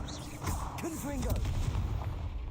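A Confringo blasting curse in a Hogwarts video game bursts with a loud explosive boom, followed by rumbling blasts and a short voiced exclamation over the sustained noise.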